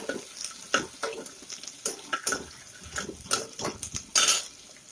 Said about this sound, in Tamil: இப்போ வெங்காயம் நல்லா ஓரளவு நல்லா வதங்கட்டும்